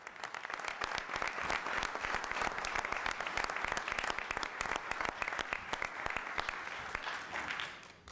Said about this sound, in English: one more round of applause for our state champion